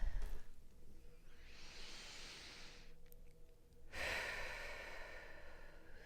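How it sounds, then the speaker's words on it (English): A person takes a slow, deep breath close to the mic, a long airy inhale followed by a steady exhale, quiet and alone. "let's go ahead and take a deep breath"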